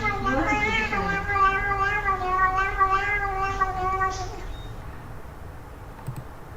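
A cat lets out a long, rising and falling meow lasting several seconds, clear and close, then fades into quiet background noise with a few faint clicks.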